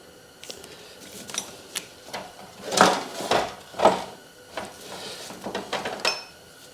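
Two metal wrenches work a fitting on a Mr. Buddy heater, producing scattered close metallic clicks, clanks and scraping taps at irregular intervals, a few louder knocks among lighter ticks.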